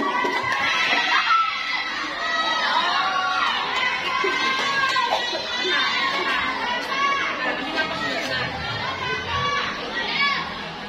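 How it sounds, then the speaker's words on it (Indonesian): Junior high students in a crowd cheering and shouting for a contestant at a school speech competition, with loud, continuous excited voices and chatter and little distinct clapping. "Tepuk tangan yang meriah untuk Satriansa."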